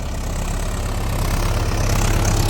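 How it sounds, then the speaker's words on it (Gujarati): A loud Mahindra 585 diesel tractor engine, fitted with a six-foot rotavator, idles steadily and close by in a farm field, a constant low rumble with knocking texture and no voices. "આપણે અહીંયા ટ્રેક્ટર હાલે છે મહિન્દ્રા ટેક પાંચસો પંચ્યાસી"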